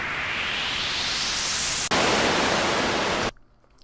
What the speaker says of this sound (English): I prefer to use, at least on chill out tracks, white noise up and down lifters